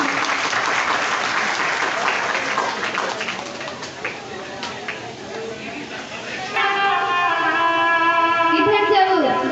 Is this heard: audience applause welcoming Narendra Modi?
yes